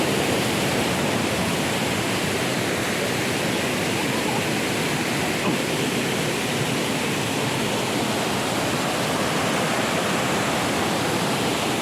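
Bulawan waterfall in Pagadian City, water pouring steadily in a dense, constant roar, close and loud with no pauses or voices.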